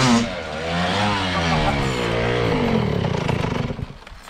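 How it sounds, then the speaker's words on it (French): A motorcycle engine revs hard, its pitch climbing and falling in sweeping surges before settling into a rough, pulsing idle, loud and close with no talking. "la moto marche, elle saute, elle a le diable"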